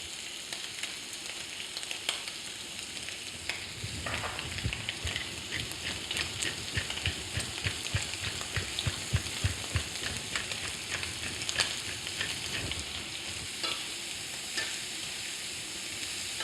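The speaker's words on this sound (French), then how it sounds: "Là, on fait une poêlée de 20 gambas. Dans une poêle, ça ira largement." Twenty prawns frying in a pan, a continuous crackling sizzle up close with rapid spattering pops that intensify in the middle, no voices.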